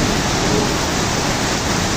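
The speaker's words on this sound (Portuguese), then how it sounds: "E menos de meia hora de chuva." Heavy rain pouring down in northeastern Brazil, a loud unbroken broadband roar holding even throughout with no voices over it.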